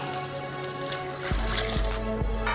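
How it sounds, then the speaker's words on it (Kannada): Water poured into a pot of soaked rice and masala for biryani; a steady trickle becomes a fuller, splashing pour about halfway through, close and with no talk. "ಸೊ ಇವಾಗ ನಾವು 7 ಕಪ್ಪು ನೀರು ಹಾಕ್ತೀರಿ."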